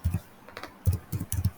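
Keystrokes on a computer keyboard while code is typed, coming in short irregular bursts of clicks with brief pauses between them, close and fairly quiet, with no voice.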